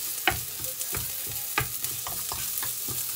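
Pork and chicken fry in oil for paddywagon-style noodles, a steady, close sizzle broken by repeated stirring knocks and scrapes of a utensil against the pan, with no voices.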